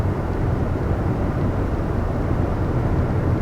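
A 2020 Nissan Murano V6 accelerates hard, producing a steady, low, dense engine roar heard from inside the car. The level stays constant throughout and no one speaks.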